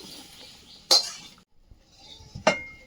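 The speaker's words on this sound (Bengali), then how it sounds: "চাল কুমড়োর তরকারিটা হয়ে গেছে, প্লেটে ঢেলে নেব।" Cooked ash gourd curry is tipped onto a plate, with two sharp clinks of utensil against dishware close by and soft scraping between them.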